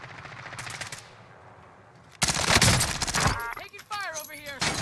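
Video game gunfire crackles in rapid bursts, with a quieter stretch and then loud sustained automatic fire and sharp shots, mixed with game sound effects.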